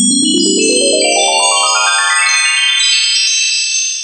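A bright synthesized notification chime sweeps upward in a quick cascade of ringing tones, then holds a shimmering sustained chord that fades slightly at the end, loud and alone with no voices.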